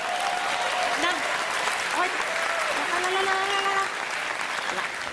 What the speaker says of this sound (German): Nicht klatschen, liebe Männer, ich war noch nicht fertig mit euch.